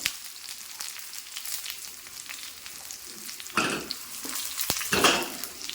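Shallots and dried red chillies fry in hot oil for a tomato curry, giving a steady close sizzle that swells into louder crackling bursts near the end, with no talking.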